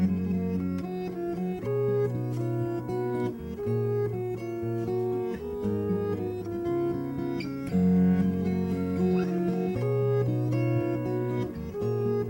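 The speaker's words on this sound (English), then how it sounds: "Then I'll hit reverse, and it'll play the other direction and play chords." Fingerstyle guitar loop played backwards on a loop machine, with swelling reversed chords and notes layered over a steady bass pattern, continuous and close.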